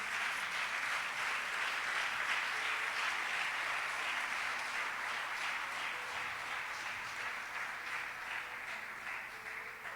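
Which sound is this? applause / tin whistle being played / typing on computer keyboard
applause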